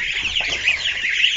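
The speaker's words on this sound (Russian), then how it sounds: "Цыплятки. Вон они все хорошенькие." Chicks cheeping in a coop on a farm, a dense chorus of high, overlapping peeps that carries on without a break, close and fairly loud, with no talking.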